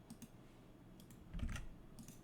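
A computer keyboard is tapped quietly as Ctrl+O and Ctrl+X shortcuts are entered in the Nano text editor, a few soft, sparse key clicks over faint background hiss, with one slightly heavier press in the middle.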